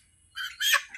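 A chicken, about to be taken for cooking, lets out two short, close squawks in quick succession against a quiet background.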